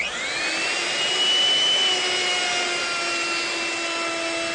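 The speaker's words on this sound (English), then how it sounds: "When we start our router, we want to make sure the cutter is not touching the stock" A woodworking router cuts the edge of a wooden tabletop, giving a loud, steady high-pitched whine with a motor hum beneath it, continuous and close.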